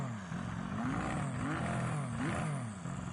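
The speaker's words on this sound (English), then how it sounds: "This one whistles as you get going." Whistling car engine in Gran Turismo 7 pulling away and accelerating, a steady close drone whose pitch climbs and dips through several gear changes, with a high whine riding on top.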